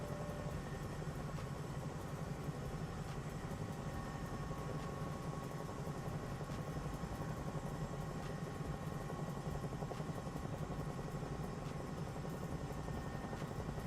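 A helicopter flies steadily in a video game, with an even, continuous rotor and engine drone at moderate-low level and no pauses.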